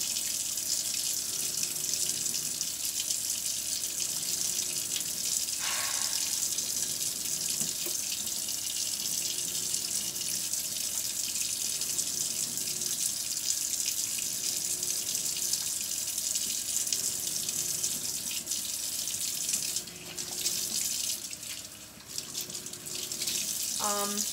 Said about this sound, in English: I'm going to go in with another piece of the soap and kind of wash my hands